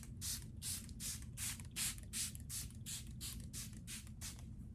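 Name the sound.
Giorgio Armani setting spray sprayed on face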